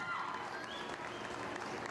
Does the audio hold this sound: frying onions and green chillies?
no